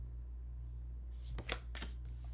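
Tarot cards being shuffled in a quiet room, a few quick papery riffles clustered near the end over a steady low hum, with no talking.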